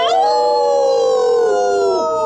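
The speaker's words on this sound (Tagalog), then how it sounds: "Mas lumakas pa ang ungol sa labas." Eerie, drawn-out howling outside, in a horror-story setting: a single long, wavering tonal wail that rises at the start and slowly sags in pitch over about two seconds, loud and sustained with no talking.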